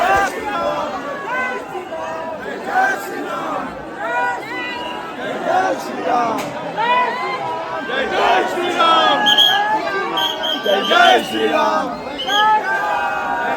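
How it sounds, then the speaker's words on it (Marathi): A dense crowd of pilgrims jostling at a temple, loud overlapping shouts and chatter close by with people pushing through, voices rising and falling throughout. "इथे खूप धावपळ चालू आहे त्याची एकदम ह्याच्यामध्ये गर्दीमधून जाण्यासाठी"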